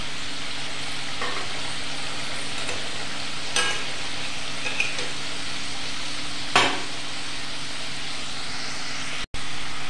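Stuffed rolls fry in hot oil with a steady, loud, close sizzle and hiss that runs throughout, broken by a few sharp clatters from the pan or utensils and one abrupt cut near the end.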